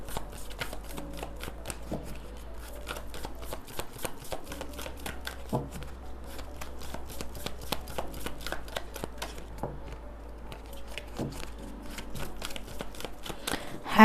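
Tarot cards being shuffled by hand, a steady run of crisp riffling snaps and slides repeating close up with no talk, under a low constant hum.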